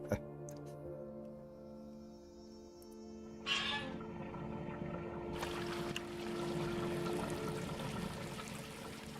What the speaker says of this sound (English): Well, I can hear water going somewhere.